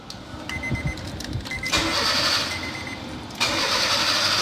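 A car engine cranks and catches into a steady running hum while a GPS tracking device is being installed, with a sharp rise in level as it fires up and no voices.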